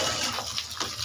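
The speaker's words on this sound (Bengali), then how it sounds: "শুকনো মরিচ লাল হয়ে গেছে, ঢেঁড়স দিয়ে দিচ্ছি" Okra tossed into hot oil with reddened dried chillies, a loud close hissing sizzle that fills the brief moment.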